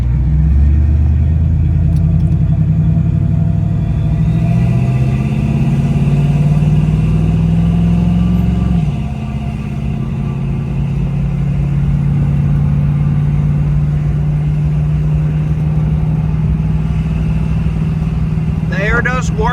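A 1968 Chevrolet Camaro RS convertible drives off, its engine rumbling loud and steady from close by as the revs climb and then settle after a gear change, with a voice talking over it.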